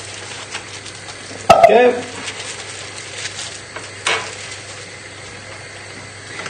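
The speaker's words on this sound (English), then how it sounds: "melt this down, melt the butter down" Butter melts in a pan on a small burner at the start of a sauce for vegetarian lasagne, with a soft, steady sizzle. A sharp clatter of utensil against pan comes early, a lighter knock follows later, and a voice speaks briefly.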